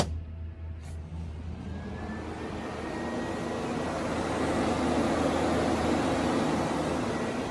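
A radiator cooling fan runs on a Honda EG with a K20 engine swap and all-wheel-drive conversion, giving a steady, close whooshing whir that swells slightly louder as it spins up, with no talking.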